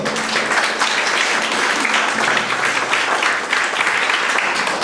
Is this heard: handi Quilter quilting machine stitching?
no